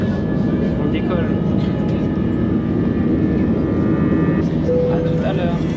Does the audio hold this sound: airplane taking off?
yes